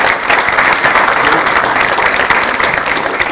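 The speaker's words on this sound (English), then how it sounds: "One more round of applause for the leadership that's sitting up here." Audience applause for city leaders seated on stage at a State of the City/County address, loud and steady clapping from a large room throughout, with no speech over it.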